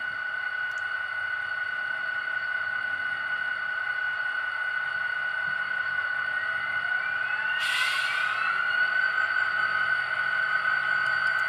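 A steady electronic model locomotive engine hum from a sound decoder plays continuously, with a brief higher whistle-like tone rising partway through; no voices.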